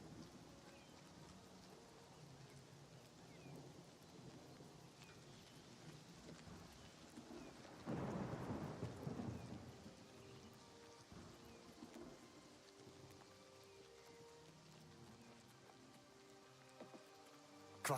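Steady rain patters throughout a stormy scene in the video game Avowed. Midway, a single rolling thunderclap swells and fades, and no one speaks.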